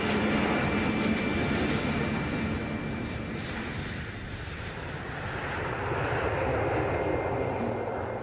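A passenger airliner departs Heathrow for Tokyo with a loud, steady engine roar that stays sustained and broad throughout, with no voices.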